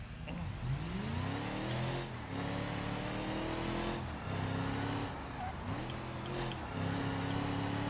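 Racing car engine in a video game, revving hard through repeated gear changes, each shift followed by a rising whine, loud and continuous with no voices over it.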